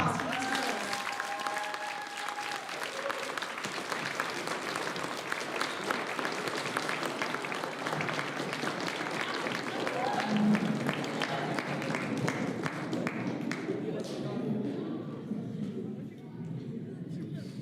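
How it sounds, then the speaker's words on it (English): An audience at a commemorative banner ceremony breaks into steady, dense applause that carries on for many seconds, loud and close, then thins out toward the end. "So let's give a big round of applause for us."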